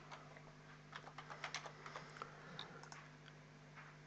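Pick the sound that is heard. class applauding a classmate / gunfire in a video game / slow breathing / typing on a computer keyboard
typing on a computer keyboard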